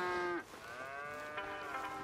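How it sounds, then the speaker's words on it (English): Cattle moo on a ranch in Red Dead Redemption 2: a strong, drawn-out harmonic bellow, then after a short dip a second, softer moo that trails off over steady farm ambience. "All right, then. Here's the cows."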